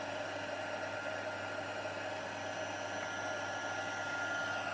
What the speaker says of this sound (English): So we can bring back in the heat tool